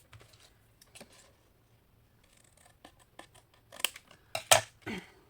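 Scissors cut through card while a shaker card is being made, giving a series of crisp, close snips that are faint at first and grow louder and quicker toward the end.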